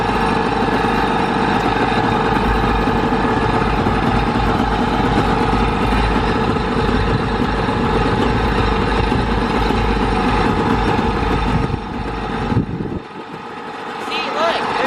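A salvaged jet ski engine idles on a lake with a loud, steady, rough drone for most of the time, then it drops and sputters toward silence near the end.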